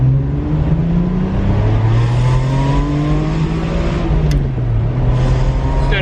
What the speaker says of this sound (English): I don't know if there is a better sounding engine than a Ferrari engine from the 90s